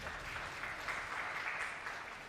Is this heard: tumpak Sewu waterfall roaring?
no